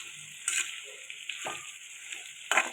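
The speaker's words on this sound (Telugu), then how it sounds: "ఉప్పు వేసి కొద్దిగా వేపుతున్నాను." Vegetables with salt frying in a pan, a steady soft sizzle with a few brief louder crackles and stirring scrapes, fairly quiet and close, without talk.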